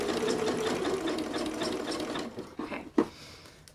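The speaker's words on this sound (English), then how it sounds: "And then I'm going to set my machine to a zigzag stitch." A sewing machine runs a zigzag stitch across elastic with a fast, even mechanical chatter that fades out, followed by a few sharp clicks and knocks as it stops.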